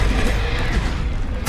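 A Confringo spell explodes in Hogwarts Legacy, a loud, dense blast of fiery noise that fills the whole moment, with a sharp burst flaring again right at the end.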